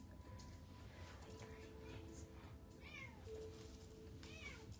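A cat meows a couple of times indoors, soft and somewhat distant, its rising and falling cries set against a low background hum.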